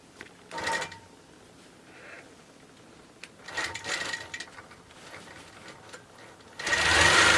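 A long arm quilting machine stitches in short, rapid bursts separated by pauses, close by and moderately loud, with a longer, louder run at the end.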